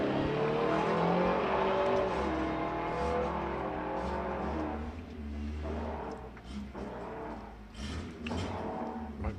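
A Maltese Ford Escort drag racing car runs down the strip, its engine roaring loud and steady before easing off and fading into a rougher, broken mechanical noise near the end.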